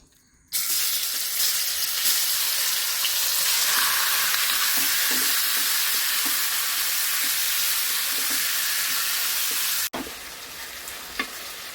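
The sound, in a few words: chicken frying in oil for chicken thoran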